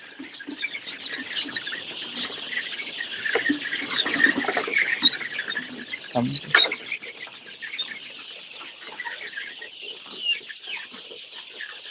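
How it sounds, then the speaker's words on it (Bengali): Thousands of Egyptian Fayoumi hens in a poultry shed cluck and chatter continuously, a dense busy flock noise with scattered louder calls and scratching throughout. "আমাদের তিন নং শেডের চার হাজার যে মিশরীয় ফার্মি মুরগি আপনাদের দেখানোর চেষ্টা করলাম"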